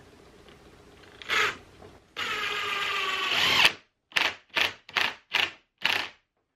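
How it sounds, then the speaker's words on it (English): A power drill whirs briefly, then drives a 2-inch screw into wood in one sustained run, followed by five short, evenly spaced bursts, all close and loud. "now I'm just going to use a couple of these 2-inch screws and get these sunk in here"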